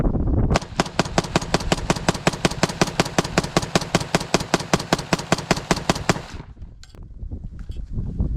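A VZ58, the Czech AK-variant rifle, fires a long, rapid burst of about five seconds that emptying a magazine, each crack loud and close with steady rhythm, then breaks off into a quieter outdoor range.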